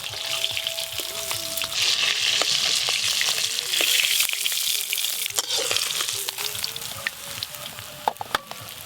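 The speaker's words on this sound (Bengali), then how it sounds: "দেখতে দেখতে এই মাছগুলো ভাজা হয়ে গেল।" Fish frying in hot oil in a pan gives a loud, steady, close sizzle, with occasional clinks and scrapes of stirring and no voices.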